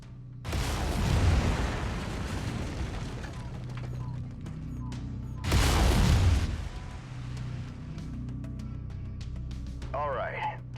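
Mech lasers firing in MechWarrior 5, two heavy booming bursts with crackling, rumbling energy discharges, loud and close, separated by a brief lull, with a voice talking over them.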